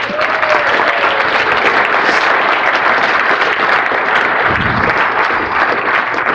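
An audience at the SAINTCON security conference closing session applauds with loud, sustained clapping that fills the hall throughout, a few faint cheers mixed in.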